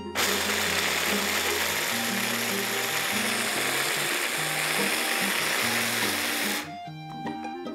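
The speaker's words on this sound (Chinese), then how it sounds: "那么我呢是用料理机切的" Food processor chopping dried cranberries, a loud steady whirring motor with a choppy rhythmic grind for several seconds, then cutting off abruptly into quiet clatter.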